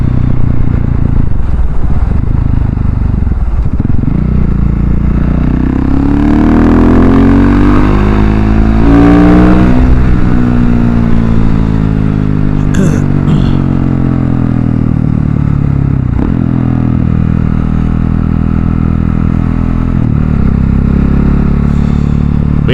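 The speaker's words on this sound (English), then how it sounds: "going 60 right now, and the wind is just beating me up" Loud, steady wind roar buffeting a rider on a Husqvarna 701 motorcycle cruising at 60, blended with the engine's low drone and occasional rattles, continuous throughout with no talk.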